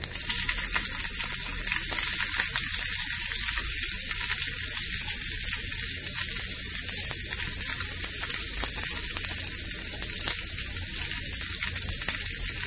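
Sliced onions fry in a pan with curry leaves, giving a steady, bright sizzle that holds at an even level throughout, with no talking.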